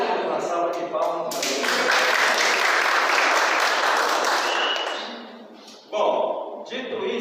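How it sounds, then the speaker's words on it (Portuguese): Audience applause during a first-aid talk for cyclists, a loud sustained burst of clapping lasting about four seconds that fades out, followed by talk. "Uma salva de palmas."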